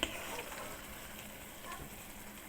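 Boiled goat trotters (paya) being stirred into frying masala, giving a steady low sizzle with faint stirring scrapes throughout.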